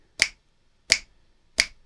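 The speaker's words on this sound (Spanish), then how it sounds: "cada vez que hago un chasquido, esto me da un tempo aproximado de 88" Three crisp finger snaps, evenly spaced about seven tenths of a second apart, tapping out a tempo near 88 beats per minute, close and dry with silence between.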